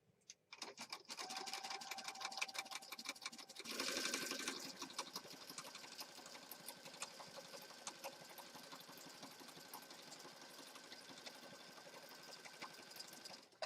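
A sewing machine runs steadily, stitching down the side of a mixed media piece with a continuous mechanical whir and a brief louder burst near the start, no voices present.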